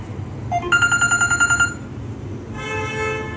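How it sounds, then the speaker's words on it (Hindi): A mobile phone plays a ringtone of quick repeated electronic beeps in a rapid pulsing run, then a softer sustained tone, loud and close over a low background rumble. "चल मैंने इसको रिंग पे कर दिया फाइनली"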